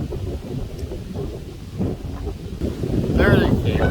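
Gusty wind buffets the microphone with low rumbling roars, rising louder near the end, while someone talks faintly underneath.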